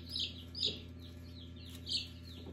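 Newborn chicks peep in a brooder box, with a few short high chirps rising over a quiet, steady background hum.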